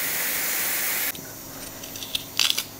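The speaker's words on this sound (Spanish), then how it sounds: "ahora que como ves ya empieza a salir vapor" Steam hissing from a pressure cooker valve while pork stew cooks: a loud, steady close hiss that cuts off abruptly after about a second, followed by faint clicks and small rattles.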